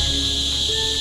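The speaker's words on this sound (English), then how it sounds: "It looks like the cricket." Dense, loud chirring of crickets at night in Siquijor, Philippines, a steady high trill filling the air with no break.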